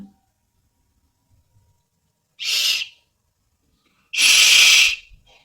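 Two short, shrill toy-whistle blasts sound close and loud, a brief one followed by a longer, stronger blow after a pause, with near silence around them.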